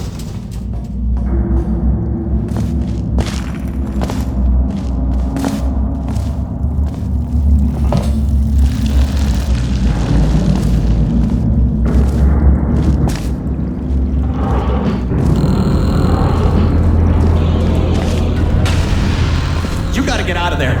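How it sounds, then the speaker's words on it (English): Rumbling booms from explosions and crashing rocks in the video game Portal Stories: Mel, a loud, continuous low roar with scattered impacts across the whole stretch, and a brief sharper rattle toward the end. "The place is exploding. Rocks are falling everywhere"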